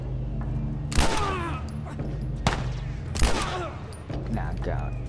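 Two loud bursts of gunfire in The Last of Us gameplay ring out about two seconds apart, each with a trailing echo, over a low steady background hum.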